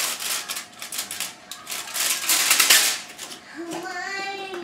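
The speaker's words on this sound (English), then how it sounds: "I'm going to take some tin foil" Tin foil is torn off a roll and crumpled by hand for covering baked stuffed artichokes, making close, crackly rustling bursts that peak midway, followed by a brief voice at the end.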